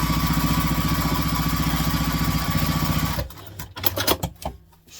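A sewing machine runs steadily and loudly for about three seconds, stitching a bag's exterior bottom and side together, then stops, and a few clicks and fabric rustles follow.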